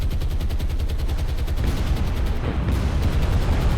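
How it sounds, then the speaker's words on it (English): Spitfire cannons rattle in rapid rhythmic bursts during a strafing run against ships in the naval game War on the Sea, loud dense repeated fire over a low rumble, steady throughout. "might be the Spitfires coming in for the strafing runs"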